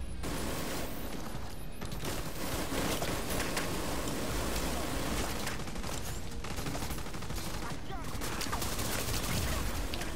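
Sustained heavy gunfire from a minigun in the video game Division 2, Warlords of New York, rattles continuously for ten seconds with dense crackling bursts under intermittent player voices.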